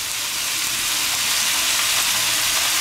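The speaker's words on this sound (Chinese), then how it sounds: "快速翻炒。" Zucchini stir-fried fast in a hot wok gives a steady, loud broadband sizzle with faint scraping, even and continuous throughout.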